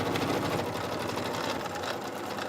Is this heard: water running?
no